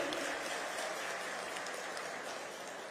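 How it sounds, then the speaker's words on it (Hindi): Steady, fairly faint applause from an audience at the inauguration of a newly built community hall, clapping for Dhami ji, a dense unbroken patter lasting about three seconds. "जोरदार ताली धामी जी के बजाएंगे।"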